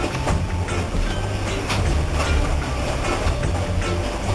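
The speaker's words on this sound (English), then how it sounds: "give everybody an idea what the Indian train's like." An Indian train rumbles along steadily with a low, continuous roar and faint rhythmic clatter, loud and close, with no voices.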